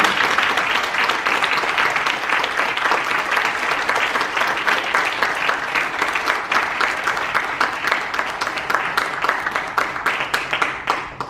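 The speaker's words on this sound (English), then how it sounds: "Ladies and gentlemen, once again, a round of applause for our celebrating" Sustained applause from an audience at a University of Birmingham ceremony for the Commonwealth Games Queen's Baton Relay, dense loud clapping throughout, growing choppier and more individual toward the end.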